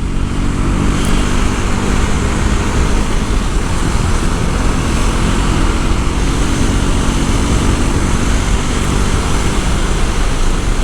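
A 2025 KTM Duke 390 motorcycle engine climbing a hill road at Yelagiri, a loud, steady drone held constant throughout, a continuous roar with no pauses and no voices.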